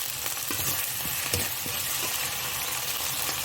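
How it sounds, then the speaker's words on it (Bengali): Tomato goes into a spice masala frying in a pan for rohu fish kalia, giving a steady close sizzle broken by scraping stirring strokes throughout. "এবার টমেটোটা দিয়ে দেব।"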